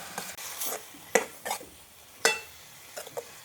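Mushrooms frying in a pan with soft sizzling, broken by several irregular scrapes and clinks of stirring; no one speaks.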